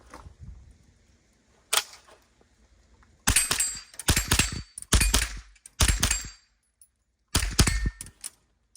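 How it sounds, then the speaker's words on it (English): AR-15 rifle shots crack out at a range against steel disc targets, about six sharp, loud reports spaced a second or so apart, each with a ringing metallic tail and a fainter pop earlier on. "We're going to shoot at some of these discs, some of these targets right here in front of us"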